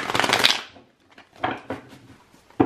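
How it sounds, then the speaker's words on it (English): Tarot cards are shuffled by hand during a Pisces reading, giving a crisp riffling burst up front followed by softer, scattered card taps and slides, close and fairly quiet with no talk over it. "One more shuffle."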